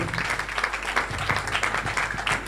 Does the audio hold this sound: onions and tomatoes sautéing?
no